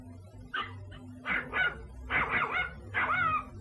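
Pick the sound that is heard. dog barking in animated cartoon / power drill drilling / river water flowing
dog barking in animated cartoon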